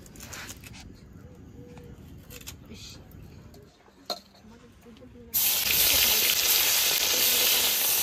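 Oil added to a hot kadai erupts into a loud, sustained sizzle partway through, after a quieter stretch of kitchen sounds with people talking.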